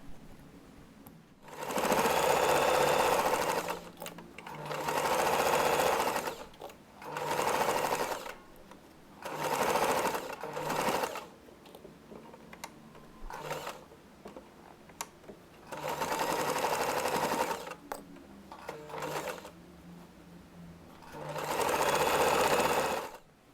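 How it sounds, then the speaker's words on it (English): A sewing machine stitches along the edges of fabric in repeated runs, each a few seconds of close, steady whirring separated by short pauses and faint handling sounds. There is no talking. "Now sew along the fabric edges, leaving an opening about 3 to 4 inches wide."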